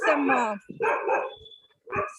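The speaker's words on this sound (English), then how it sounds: "somebody's dog is barking" A dog barks a few times in the background of a Zoom call, with the sharp barks mixed among people talking.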